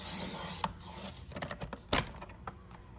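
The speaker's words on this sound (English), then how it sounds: "I'm cutting 1/8 of an inch off on that side" A paper trimmer slices through cardstock while a handmade watercolor mixed-media card is being made, giving a close, dry rasping and scraping with a few sharper clicks and snaps along the cut.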